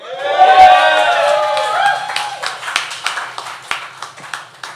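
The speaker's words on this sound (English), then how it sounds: "let's give a round of applause" Comedy club crowd at Reggies erupts in loud whoops and cheering voices over clapping, then the cheers drop away and the applause thins into scattered, fading claps.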